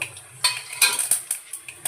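Tempering seeds drop into hot oil and crackle with short, bright bursts and a light sizzle, while a spoon clinks against the pan now and then.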